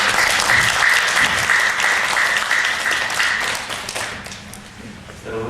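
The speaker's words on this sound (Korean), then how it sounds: "우리 감사라는 의미에서 감사의 박수 한번 해주시기 바랍니다." An audience claps in thanks, dense continuous applause that is loud at first and gradually thins and fades toward the end.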